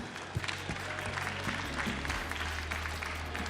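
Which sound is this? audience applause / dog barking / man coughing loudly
audience applause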